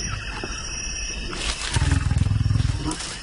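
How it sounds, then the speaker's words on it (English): Deep growls and roars of large wild animals in the Amazon, a rumbling, pulsing roar rising midway and continuing strongly with rapid throbbing bursts over background jungle noise. "those growls and roars just rattle through your body"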